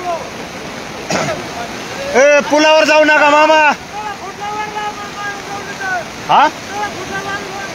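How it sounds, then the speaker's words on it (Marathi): A river swollen into a rushing flood after a cloudburst gives off a steady, broad roar of fast water throughout, with loud voices shouting over it. "हे जे तुम्ही पाहताय हे प्रचंड पाण्याचा वेग"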